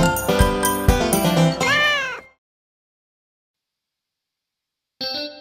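Several short cat meows in quick succession, the last one drawn out and rising, followed by silence and then a brief final mew at the end.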